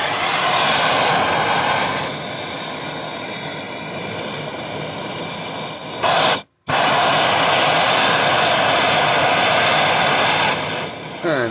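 A torch flame roars loudly and steadily as it heats a piece of sterling silver for annealing in a jewelry-making workshop. The broad, rushing hiss cuts out for a moment partway through, then resumes just as strongly.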